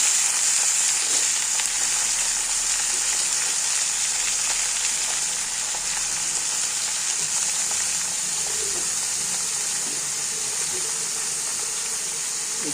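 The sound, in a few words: eggplant frying in oil with mustard seeds and garlic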